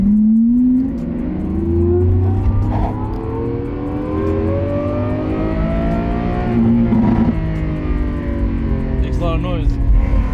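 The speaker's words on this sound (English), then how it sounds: "this thing is loud. It is very, very loud. It's straight piped, and it's got the F1 exhaust on there" A straight-piped Lamborghini SVJ with an F1 exhaust revs loudly and close, rising and falling through several throttle blips with a harsh, raspy edge, heard from inside the car with the rear window open.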